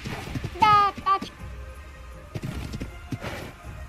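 Horse hooves clip-clop in ARK: The Lost Island, a few sparse thuds and knocks set against a high whinny-like call near the start, with people talking over the scene.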